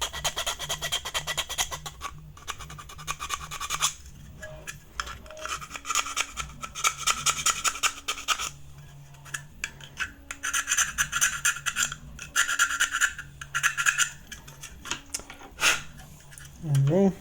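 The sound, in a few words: metal file filing edges of an ARP9 magazine side cutout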